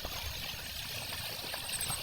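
Irrigation water runs into a farm field in a steady, continuous close-up rush with soft gurgles and no voices.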